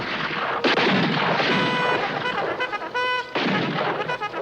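Gunfire from a western movie shootout rings out loudly in repeated sharp blasts with echoing tails, close and dense, with no voices over it.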